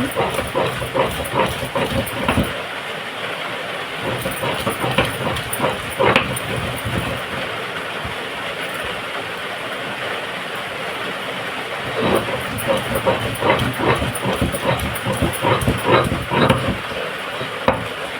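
Ginger is ground into paste on a grinding stone in a village kitchen, giving rough, repeated scraping strokes in a steady back-and-forth rhythm, close and fairly loud.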